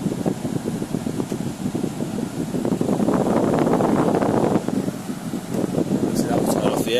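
An air conditioning unit in a 2017 Elddis Crusader Tempest caravan runs with a steady, close, loud whooshing hum, with a faint muffled voice underneath.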